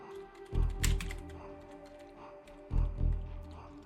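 Fingers tap keys on a computer keyboard to enter a password, two short bursts of quick close clicks separated by a pause.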